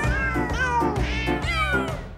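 A cat meows repeatedly from a television set, several loud, drawn-out calls with rising and falling pitch in close succession, filling the whole stretch with no talk.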